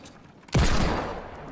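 Video game gunfire erupts in a sudden loud burst, a dense volley of shots that starts abruptly and stays sustained, slowly tapering while a duo is under fire in a gauntlet match.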